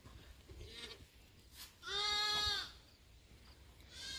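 A sheep bleats once, a loud wavering call lasting under a second, amid quiet rustling farm background with a fainter bleat starting near the end.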